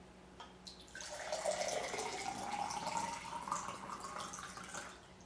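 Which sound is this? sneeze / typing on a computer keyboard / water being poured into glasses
water being poured into glasses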